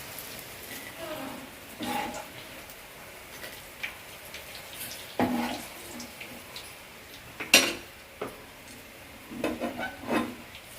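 Food frying in a pan gives off scattered crackles and pops at moderate loudness, with a few sharper spits standing out over a soft steady sizzle.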